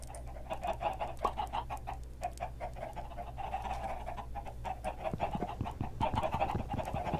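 A flock of chickens in Minecraft keeps up a dense, rhythmic stream of short clucks, fairly quiet and continuous, with the background shifting slightly partway through.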